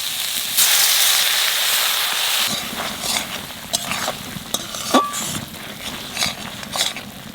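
Ground cumin, coriander and a little water go into frying masala for an egg and brinjal curry. A loud burst of hiss and sizzle settles into quieter bubbling, with a few scraping stirs and clinks of a spoon against the pan.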